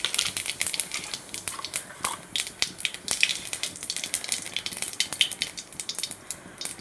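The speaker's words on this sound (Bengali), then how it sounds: "ফোড়নে সাদা জিরে দিয়েছি।" White cumin seeds crackle and pop in hot oil for tempering, with a steady spatter of quick, sharp sizzling bursts close by, alone and without voices.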